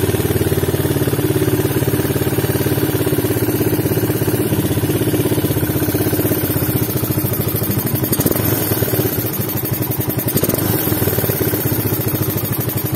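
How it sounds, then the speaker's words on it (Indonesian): Suzuki Satria FU motorcycle engine idling steadily after a PWK 28 carburetor setting, a continuous near mechanical drone with slight clatter and small rises and dips in pitch, alone without talk. "Dia pas awal starter dia langsamnya tinggi dulu, baru kemudian dia mengecil."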